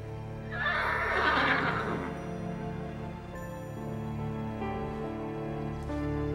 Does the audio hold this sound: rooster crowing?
no